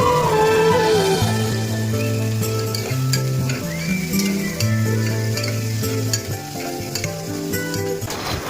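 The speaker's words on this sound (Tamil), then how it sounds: "அதுக்கப்புறம் வெட்டி வச்சுருக்கிற ஆனியனை போட்டு அதையும் வணக்குங்க." Chopped onion sizzles steadily in a hot pan while being stirred for tomato rice, a continuous frying crackle under soft background music.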